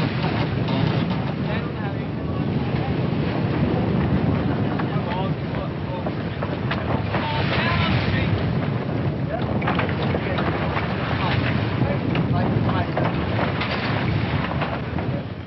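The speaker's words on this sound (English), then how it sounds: "we asked for the wind, and here it is, gusting to a force 8 gale" Strong gale winds gusting to force 8 roar steadily over a tall ship at sea in the Gulf of St. Lawrence, with loud, continuous buffeting wind noise and rushing water throughout, no speech.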